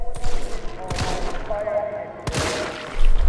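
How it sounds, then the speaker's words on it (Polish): Gunfire from the video game Resident Evil 3 comes in about three loud, spaced bursts, each a sharp crack that booms and fades. Game background noise runs underneath. "Chyba rozwaliłem mu łeb trzema strzałami, dokładnie."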